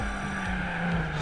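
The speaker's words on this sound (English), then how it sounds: "spin my tires over the hill" Car tires spin and skid as a car crests a hill in the racing game Gran Turismo 4, a steady engine drone with sustained tire noise running close and loud throughout.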